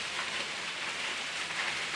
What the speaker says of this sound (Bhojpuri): कितनी मूसलाधार बारिश और पत्थर दोनों एक साथ